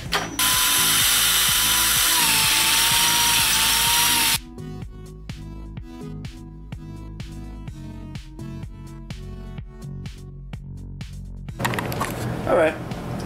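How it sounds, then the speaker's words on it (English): A power drill bores into the side of a bucket for a homemade concrete forge, a loud steady whine for about four seconds, then quieter rattling, clicks and handling noises follow. "drill into the side."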